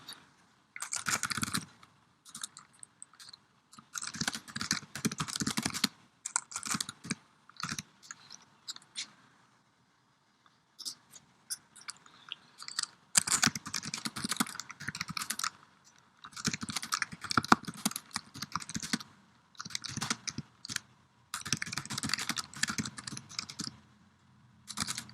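Bursts of computer keyboard typing as an assignment name is entered, clicking keys in quick irregular runs separated by short pauses, close and fairly clear with no talking.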